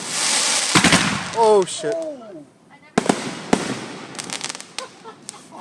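Backyard fireworks burst in a rapid string of sharp, loud pops and booms with a brief whistle-like squeal. A voice shouts and people talk nearby.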